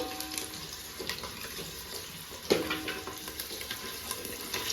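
Eggs frying in oil with chilli powder, salt and turmeric give a steady, soft, close crackle with light watery hissing, one brighter pop near the middle, and no talking.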